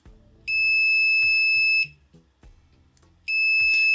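Continuity test beep from a handheld clamp meter: two sustained high electronic tones, the first lasting over a second, the second starting after a pause, loud and close with faint handling sounds between.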